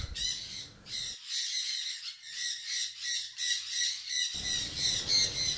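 Pet birds in a breeding setup squawk and chatter continuously, a dense chorus of shrill, repeated calls close by, with a brief rustling clatter at the start and end.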